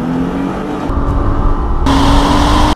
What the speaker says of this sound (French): C'est un moteur qui est repris de la Nissan GT-R Nismo, et franchement, ça envoie du steak.